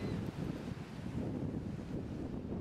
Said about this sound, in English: It's that wave action pounding that glass on these rocks that produces this beach glass.